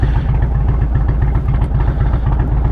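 An Indian Roadmaster Dark Horse motorcycle with a 116 Thunderstroke engine, fitted with stage 1 and stage 2 kits, rumbles loud and steady while riding, its deep throbbing pulse running without a break.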